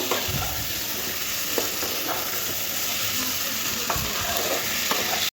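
Fried taro and potato pieces are tossed in a spice paste in a hot pan for a hilsa-head kochu curry. A steady close sizzle continues under repeated stirring scrapes, with no talk.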